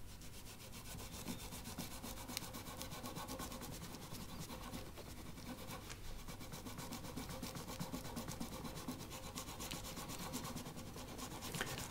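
A guitar nut rubbed and polished with Fernandes metal-parts polish, a continuous close scrubbing friction with fast repeated strokes over a steady low hum.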